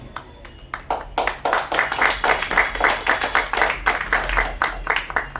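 A church congregation at a pastor's sermon claps together in a steady, even rhythm of sharp, fairly close hand claps that runs nearly the whole time after a few scattered opening claps.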